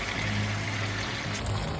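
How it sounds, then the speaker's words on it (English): Chicken broth pouring into a pan while making mapo tofu sauce, a short steady liquid stream that sounds close and fairly soft, with a faint splash near the end. "Let's make the sauce by pouring 1 cup of chicken broth or water."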